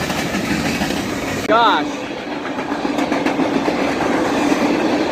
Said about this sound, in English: I've never seen a train go that fast before